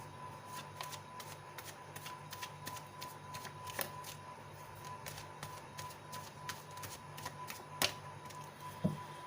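Tarot cards being shuffled, quick soft papery riffles and flicks in an irregular rhythm, close and faint against a quiet background.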